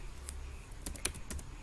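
A formula is typed into an Excel spreadsheet on a computer keyboard: a short, quiet run of about eight irregular key clicks, close by.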